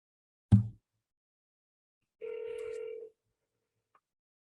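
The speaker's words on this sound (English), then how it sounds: "And we are going to call this agent right here on the spot." An outgoing phone call to a real estate agent gives a sharp click, then one steady ringback tone lasting under a second, followed by silence.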